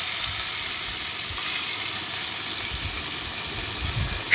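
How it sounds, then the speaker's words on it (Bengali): Bitter gourd pieces fry in hot oil in a kadai, giving a steady, dense sizzling hiss that holds evenly throughout, close and moderately loud with no voices. "কড়াইতে আবার তেল দিয়ে দিয়েছি আর তেলটা গরম হতে তাতে দিয়ে দিচ্ছি কেটে রাখা উচ্ছের টুকরোগুলো"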